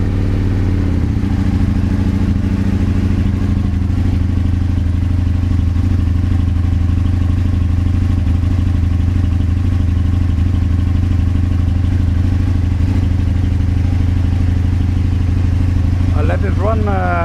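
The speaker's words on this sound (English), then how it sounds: "My engine is ready to start" An Aprilia RSV1000R Factory motorcycle engine idles steadily and loudly during throttle body vacuum work, a continuous close-up rumble with a faint mechanical clatter.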